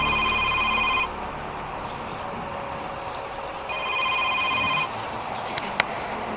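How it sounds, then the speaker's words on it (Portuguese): A telephone rings in two bursts of electronic trilling separated by a pause, loud and close, with a steady rain-like hiss underneath and no one speaking. "de repente, o telefone tocou."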